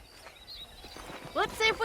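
Horse hooves clip-clopping on a ranch where horses are being broken in, in the video game Red Dead Redemption: a few soft, quick hoof strikes, followed by a voice speaking.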